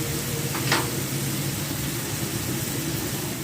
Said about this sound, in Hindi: अब एक साइड और पका लेंगे चिकन।